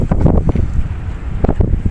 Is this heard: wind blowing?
yes